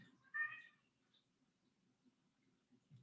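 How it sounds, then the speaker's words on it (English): Cat giving a single short meow, soft and close, against a quiet, faintly murmuring room. "My cat seems to have some questions"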